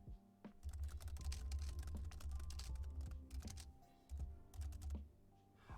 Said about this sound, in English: it picks up hella keyboard noise